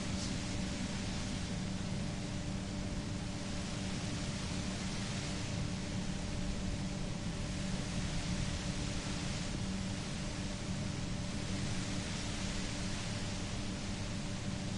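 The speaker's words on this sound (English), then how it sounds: "You hear through the white noise." Steady white-noise hiss from the video game Disco Elysium, a constant, even static wash holding for about fifteen seconds without change or pauses.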